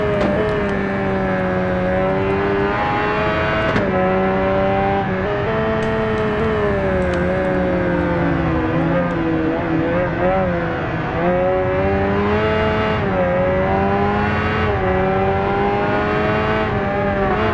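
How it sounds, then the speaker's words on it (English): A Kawasaki ZX7RR motorcycle engine whines steadily at high revs around the Nürburgring in the racing video game Ride 2, its pitch rising and dipping through gear changes, loud and continuous with occasional talk over it. "Don't really get the sense of redlining the bike either from the engine sound."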